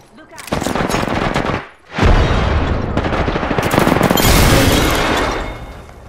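Loud rapid automatic gunfire in Apex Legends while the player is under fire, with long sustained bursts, a brief pause near the middle, then more dense shooting that continues to the end.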